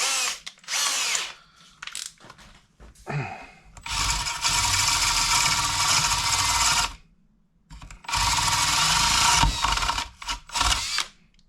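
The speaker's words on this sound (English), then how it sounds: "What I'm going to do now is just use a countersink bit." A power drill with a countersink bit works on an Akrapovic motorcycle exhaust baffle from a Yamaha Tenere, running in two long loud whirring bursts with short taps and pauses between them.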